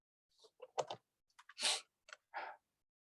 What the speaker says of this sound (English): type this in the calculator